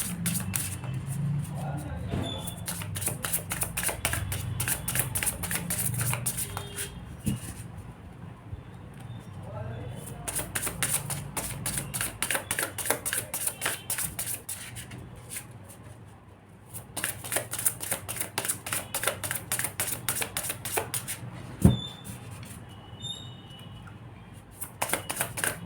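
Tarot cards are shuffled and drawn during a reading, giving a steady run of soft, papery flicks and snaps close by, with a person talking over them throughout.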